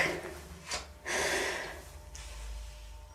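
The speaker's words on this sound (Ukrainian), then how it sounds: "І робимо такий вдих." A deep inhale drawn through the mouth during a vocal breathing exercise, with the nose closed: a short breath, then a longer, airy intake lasting about a second, close and quiet.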